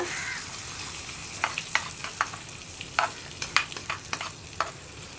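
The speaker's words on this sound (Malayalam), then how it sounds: "അപ്പോൾ ഞാൻ എന്താ വറവ് കറിയിലേക്ക് ചേർക്കുകയാണ്" Tempering crackles and sizzles as it is poured into an ivy gourd (kovakka) curry, a brief hiss followed by scattered sharp pops and a stir, close and moderately loud with no talking.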